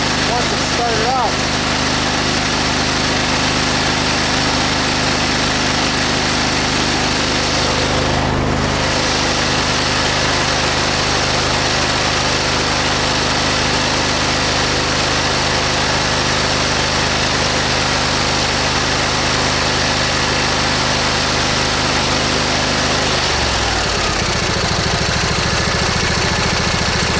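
A lawn tractor engine idles steadily with a low, even rumble, close by, and its pitch drops slightly near the end as it settles lower.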